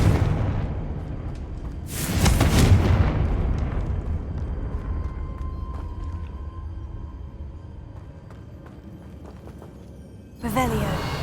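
A Confringo fire spell from Hogwarts Legacy bursts with a loud boom about two seconds in, its rumble trailing away over several seconds, then a second sharp burst lands near the end.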